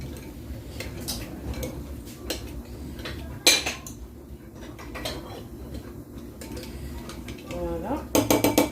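Yeast, sugar and water stirred in a bowl with a spoon, a steady run of clinking and scraping against the bowl, with a sharper clatter partway through and a burst of quick metallic taps at the end.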